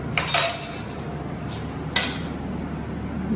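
A knife cuts paneer into cubes, making a few sharp clinks on a board, with a cluster at the start and isolated strikes after, close and clear against a quiet room.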